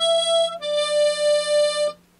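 Reedy tremolo harmonica tones sound up close, a short note sliding into a longer sustained one with a gentle pulsing warble, played alone without talking.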